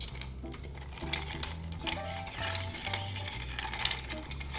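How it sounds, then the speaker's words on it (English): Cocktail stirred with Jack Daniel's Tennessee Whiskey, orange and sugar, a steady tinkling of spoon against ice and glass running close and continuous, with no voices. "Now you think we'd shake, but we're actually gonna stir."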